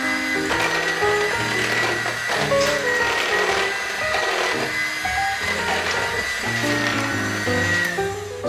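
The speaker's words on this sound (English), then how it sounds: "I'm gonna mix it up a little more because I still feel a couple of chunks" An electric mixer works through sweet potato pie filling, a loud, steady motor whine whose pitch shifts up and down as the beaters meet thicker chunks.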